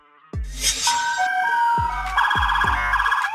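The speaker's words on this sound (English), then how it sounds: "Police car." A police car siren wails loud and close, its rising and falling tones layered with several sharp low thumps, with no talking over it.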